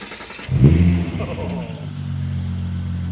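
A VW Mk2 VR6 engine cranks and fires up, gives a loud rev, then settles into a steady, throaty idle.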